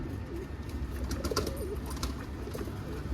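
Pigeons coo steadily in a coop, a close, low chorus of soft rolling calls overlapping with a few brief rustles and flutters nearby.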